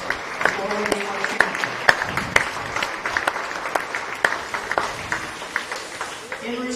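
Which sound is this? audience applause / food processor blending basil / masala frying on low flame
audience applause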